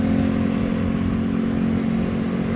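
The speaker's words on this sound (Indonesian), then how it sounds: "ini di depan ada knalpot racing ya guys" A motorcycle fitted with a racing exhaust runs with a loud, steady, throaty rumble that holds evenly throughout, with no talking over it.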